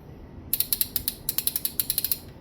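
A rapid series of sharp mechanical ratchet clicks from a 72-tooth 1/2-inch digital torque wrench, close and crisp, in two quick bursts with a brief pause between them.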